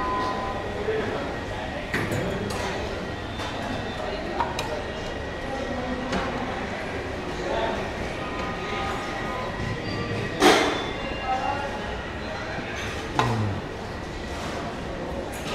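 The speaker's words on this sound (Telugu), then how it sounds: "ఇదే మన బండి 12608 లాల్బాగ్ సూపర్ ఫాస్ట్ ఎక్స్ప్రెస్" Busy railway station platform beside the Lalbagh Superfast Express, with a steady hum of crowd chatter, train noise and occasional clanks and door sounds over fifteen seconds.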